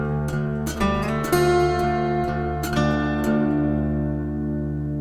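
Fingerstyle guitar picks one measure of a song intro, with a steady low bass note under a short run of plucked higher notes and string snaps, played close and clear.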